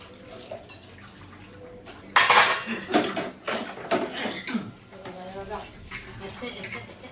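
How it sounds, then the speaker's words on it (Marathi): Dishes and utensils being scrubbed and rinsed in a home kitchen, running water splashing with clattering pots and clinking steel, loud and close, with a voice talking over it. "मी आता पहिला भांडी घासून घेते"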